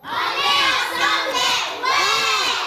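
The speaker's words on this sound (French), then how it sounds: "On acclame très très très fort les enfants universels." A group of children cheer and shout loudly together in a crowd, their high voices rising in repeated excited swells over continuous clapping.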